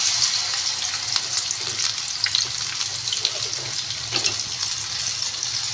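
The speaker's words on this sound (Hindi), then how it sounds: "ये भी पकोड़े अच्छे तरीके से दोनों तरफ से फ्राई करके तो इनको मैं निकाल दूंगी" Pakoras made from an onion-mixed batter fry in hot oil with a steady, dense sizzle and crackle that holds close and even throughout, with small pops scattered over it.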